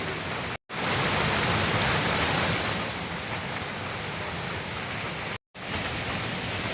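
Steady, dense rain pours down in a continuous hiss during a flash flood in Kalalau, broken by two brief silent gaps.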